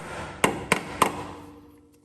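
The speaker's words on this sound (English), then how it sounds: "we're gonna have to tap the pan a little bit to break it loose. So I've got a little rubber mallet here." A small rubber mallet strikes the transmission pan of a 1988-99 Chevy 1500 pickup to break it loose: three sharp, fairly loud taps about a third of a second apart, each ringing briefly and fading into a quiet garage.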